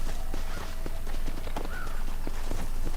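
Horse hooves clip-clop in a steady running rhythm in a video game, close and continuous over a dense backdrop of ambient game sound, with a brief whistle-like tone partway through.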